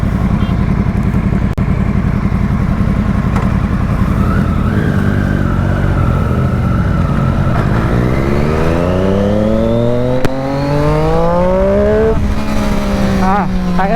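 A Triumph Daytona motorcycle with a clutch release bearing issue is ridden on the street, its engine droning loud and close, then revving up through rising pitch sweeps with a gear change, as someone talks over it.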